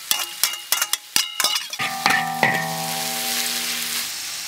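Onions sizzle loudly as they drop into a hot wok, with a few sharp clinks and scrapes at the start before a steady, close frying hiss takes over and slowly settles.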